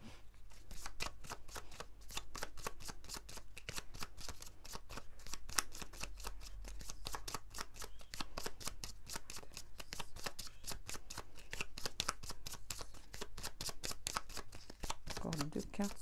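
A deck of cards for a card reading is shuffled close up, a rapid, continuous run of riffling flutters lasting the whole stretch.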